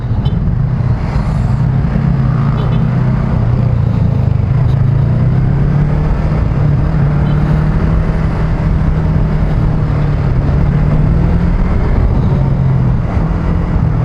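A 2020 Yamaha R25 motorcycle engine drones steadily while being ridden, its low hum rising and falling gently with the throttle, loud and close throughout with continuous wind and road noise.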